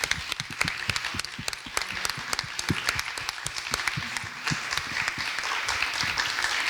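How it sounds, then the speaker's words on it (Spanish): An audience at a round-table panel discussion applauds steadily, with dense overlapping claps throughout, fairly close and sustained. "El aplauso es por denunciarlo"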